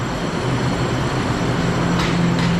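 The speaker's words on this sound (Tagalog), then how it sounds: "So antay-antay tayo ng Manman na tren." A train waits at a station in Taichung, Taiwan, giving a steady low hum and rumble, with a brief hiss near the end and no talking.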